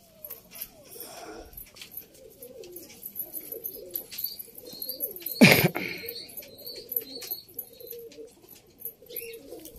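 Pigeons coo in a loft in soft, repeated low calls. A sharp burst of wing flapping comes midway, and quiet voices are heard in the background.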